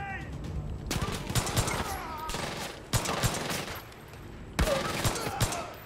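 MP5 submachine gun fire in Far Cry 5 arcade mode, several loud rapid bursts separated by short pauses, with a voice talking faintly underneath.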